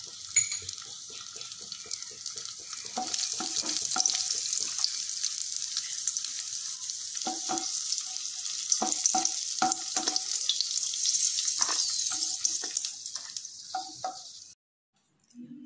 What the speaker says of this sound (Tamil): திராட்சை ஆட் பண்ணி ஃப்ரை பண்ணிக்கலாம்.